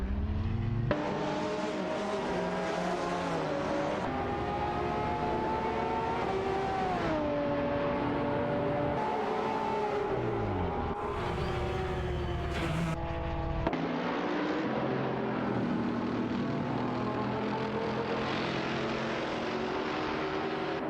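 Racing-game cars, a Seat Cupra GT and an Infiniti G35, roar continuously with engines climbing and dropping through gear shifts as they jostle for position, loud and sustained with no talk.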